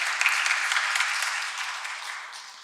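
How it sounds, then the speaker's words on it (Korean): Congregation in a church applauding to welcome new members, a steady, dense clapping that fades slightly toward the end. "다시 한번 우리 감사의 환영 박수를 한번 보내도록 하겠습니다"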